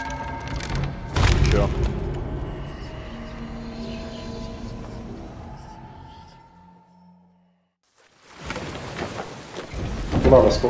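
Stormy weather in a sailing video game: heavy rain hiss and deep rolling thunder booms, loud and sustained, fading to near silence before another thunderous burst surges back in.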